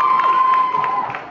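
Casino crowd cheering and whooping with scattered applause, loud and lively at first and then tapering off slightly.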